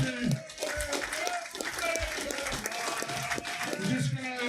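Fans applaud at a 2018 rugby league end-of-season awards night: a steady patter of clapping fills the room for a few seconds while voices carry over it.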